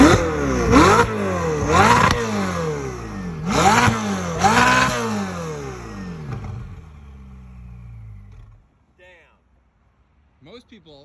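A Ferrari engine is revved hard four times in quick bursts, each sharp roar climbing and dropping, followed by a fading mechanical settle, then near silence with a couple of faint squeaks at the end.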